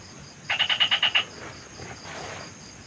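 A short, rapid series of about seven croaking pulses from frogs at night, fairly close and clear over a quiet background hiss of insects.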